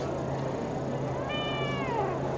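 A cat meows at an international cat show in Radom, Poland, a single drawn-out call with a rising-then-falling pitch, heard over a steady hum and busy hall background.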